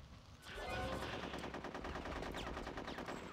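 Rapid automatic gunfire from the Conker's Bad Fur Day video game, aimed at Tediz enemies. After a brief quiet start it becomes a dense, loud, continuous burst of shots that keeps going to the end.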